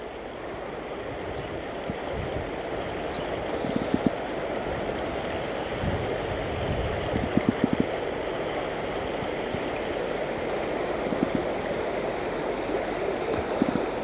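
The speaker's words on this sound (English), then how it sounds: "Sound of the rushing water is peaceful and soothing" Steady, broad rushing of fast-moving floodwater fills the whole stretch, continuous and fairly close, with a few faint knocks and splashes now and then.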